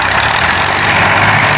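A tractor hauling a trolley loaded with timber and stuck in a ditch runs at a steady idle after starting, its engine rumbling continuously and fairly loud with a broad, hissing mechanical noise and no talking.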